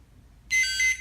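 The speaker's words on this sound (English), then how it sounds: "And you hear a beep sound" A short, bright electronic beep from a toy saber confirming a colour selection sounds for about half a second after quiet, close and clear.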